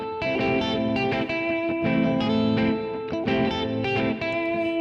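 Electric guitar with effects playing a melodic pentatonic triad pattern over a looped backing, a steady stream of clear, sustained picked notes with distortion and reverb, loud and continuous.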